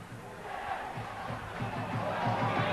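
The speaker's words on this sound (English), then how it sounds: "The cheers went up, the crowd thought that was in." A football crowd at a 1997-98 Chester City versus Peterborough United match roars as a shot hits the post, a broad, distant swell of cheering that rises and holds briefly.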